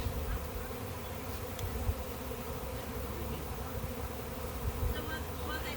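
Honey bee swarm buzzing steadily close by, a dense continuous drone of many wings holding an even level throughout with no talk.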